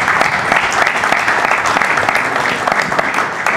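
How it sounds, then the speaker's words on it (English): An audience at a karate press conference for the Karate1 Series A event in Larnaca, Cyprus, breaks into applause. The clapping is steady, dense and loud, and it carries through the whole stretch without a break. "So please, a big applause."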